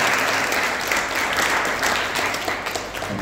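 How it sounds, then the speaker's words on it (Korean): A church congregation at a Sunday worship service applauds to welcome visiting guests, with dense, steady clapping from many hands filling the room close by throughout. "우리 큰 박수 환영하겠습니다."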